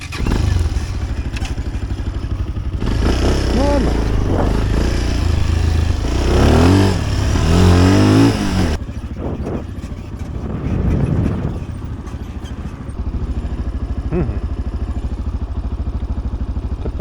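Motorcycles rev and ride on a nearby track, their engines loud and droning, rising and falling as they pass, with a lighter rumble continuing afterwards.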